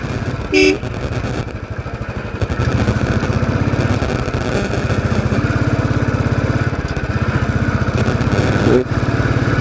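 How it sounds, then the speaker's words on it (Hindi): A motorcycle rides along a mountain road early in the morning, its close engine putting steadily with a rapid pulsing rhythm, and short horn toots sound near the start and end. "पहाड़ों में सुबह सुबह बाइक चला रहे हैं"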